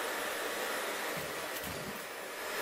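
A rebuilt vacuum cleaner motor runs steadily with suction, a loud, even whirring roar that holds for the whole stretch, with a brief change in the hiss partway through as air is drawn in, then cuts off at the end.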